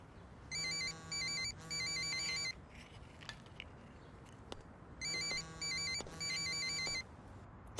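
A mobile phone ringtone plays in two sets of repeated electronic tone bursts separated by a quiet pause, fairly faint and clear with a few small clicks in between.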